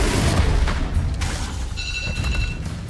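A Confringo explosion spell goes off in Hogwarts Legacy as a loud, dense boom that rumbles steadily for a few seconds, with a brief bright ringing shimmer near the end.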